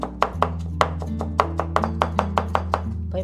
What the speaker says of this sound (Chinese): 然后再给它切丝。